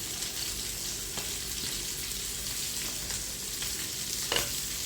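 Sardines added whole into a pan of simmering curry paste thinned with water give a steady, soft sizzling bubble throughout, with a few faint clinks and a brief louder splash near the end; no voices.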